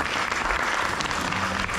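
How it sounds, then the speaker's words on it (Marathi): An audience at a Gudi Padwa gathering claps loudly, a dense, continuous burst of applause from many hands without voices. "तर यासाठी जोरदार टाळ्या होतात."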